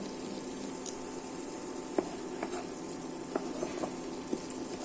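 Spices for a vegetarian soya cutlet curry sizzle and bubble in oil, giving a steady low hiss broken by faint, scattered pops and spits.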